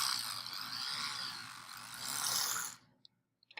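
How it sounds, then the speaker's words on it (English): An electric toothbrush buzzes loudly and steadily, its tone dipping and shifting as heavy pressure is applied, then cuts off abruptly, leaving only a few faint clicks. "If you apply too much pressure, the toothbrush will light up and you'll hear a sudden change in sound"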